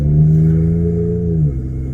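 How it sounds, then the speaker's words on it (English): A Ford EcoBoost turbo engine fitted with a cold air intake holds a loud, steady droning rev close by for about a second and a half, then drops off to a lower idle. "That's way more turbo than it was before."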